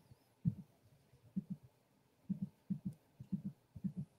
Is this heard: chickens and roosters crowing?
no